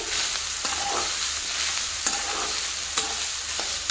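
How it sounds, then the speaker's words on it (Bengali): Homemade chow mein tossed and stirred in a hot pan, a dense continuous sizzle with soft scraping and a few light utensil clicks, close and uninterrupted by talk. "ভালো করে নাড়িয়ে মিশিয়ে দেবো।"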